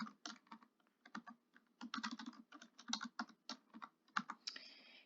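Typing on a computer keyboard, a close, quiet run of irregular key clicks in quick bursts with brief pauses, heard alone.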